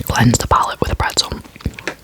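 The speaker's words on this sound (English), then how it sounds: "Cleanse the palate with a pretzel." Crunchy pretzel bitten and chewed close to the mic in a whispered ASMR mukbang, with soft crunches and mouth sounds mixed in among breathy whispering.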